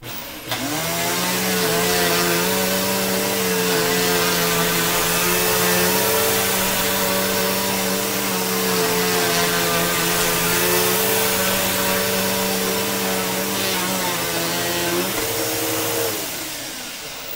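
A 2005 Bissell 6594-W upright vacuum cleaner running, a loud steady motor whine that spins up quickly, holds for about fifteen seconds, then winds down.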